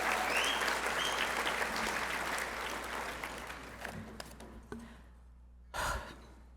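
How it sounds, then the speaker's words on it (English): Audience applause at a gala dinner, a fairly distant crowd clapping that fades out gradually, followed by a brief louder burst of sound near the end. "Let's give him one more set of applause."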